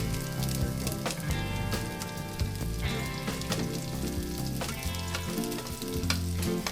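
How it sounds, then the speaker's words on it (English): Ginger, onion and garlic sizzle steadily in annatto oil for Filipino balbacua, a dense continuous frying crackle with occasional stirring scrapes close by and no voices. "Sauté ginger,"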